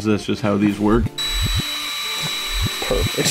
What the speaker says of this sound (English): I always feel like I have to put a disclaimer that I'm aware the drill's spinning backwards.